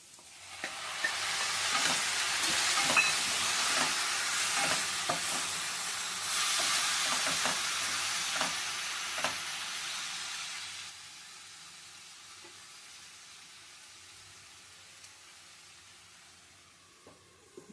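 Tomato frying and being stirred in a pan for stuffed capsicum: a steady close sizzling hiss broken by repeated scraping spoon strokes, easing to a quieter simmer for the last several seconds, with no talking.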